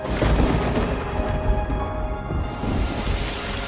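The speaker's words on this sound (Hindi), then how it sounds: "अरे देखो, बारिश शुरू हो गई।" Rain starts falling in an animated forest story, a dense, steady hiss of drops, loud and close, with low rumbling underneath and no voices.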